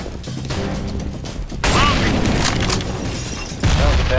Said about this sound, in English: That was a bad grenade.